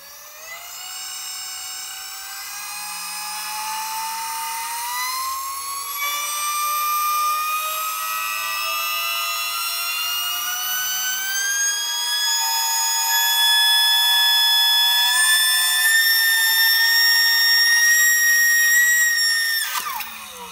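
A 13.33 kW motor driving a 3 mm Tesla vacuum pump shaft through a 12:1 ratio in a destruction test, producing a loud, steady high-pitched whine that climbs gradually in pitch, then cuts off abruptly near the end.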